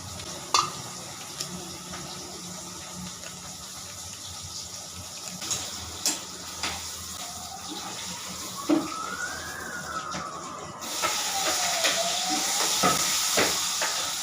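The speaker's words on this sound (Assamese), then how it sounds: "এইখিনি ফ্ৰাই কৰোঁ এইটো জিঞ্জাৰ গাৰ্লিক পেষ্ট" Ginger garlic paste fries in a pan with a steady close sizzle and hiss, broken by scattered stirring knocks and scrapes, with the frying growing brighter and louder near the end.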